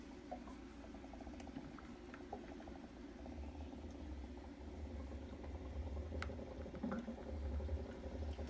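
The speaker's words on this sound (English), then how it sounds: "Get some bubbles." Low, steady bubbling and fizzing of seawater in an HHO gas generator, a continuous soft gurgle with faint crackles, close and quiet, with no talk.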